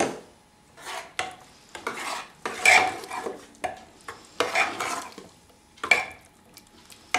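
Corn meal being stirred into cooked mustard greens (sarson ka saag) in a pot, heard as a series of short, close scraping and mixing strokes in irregular bursts with quiet pauses between them and no talk.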